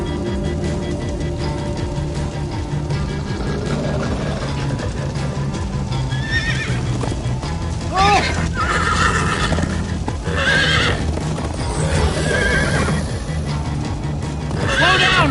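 Horses whinny repeatedly over a steady clip-clop of galloping hooves in Minecraft: Story Mode, with a busy background of game sound effects and occasional voices.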